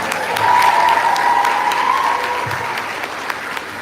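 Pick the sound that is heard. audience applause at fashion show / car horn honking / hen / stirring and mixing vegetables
audience applause at fashion show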